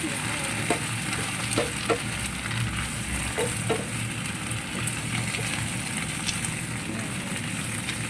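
Leafy greens cooking in a pan with only garlic and salt, a steady loud sizzle and hiss running throughout, with a few sharp spatula clicks and scrapes scattered through it.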